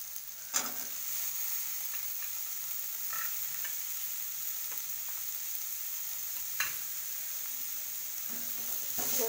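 Peas, potato and pumpkin frying in a pan, a steady close sizzle with occasional sharp clinks and stirring scrapes, no talking.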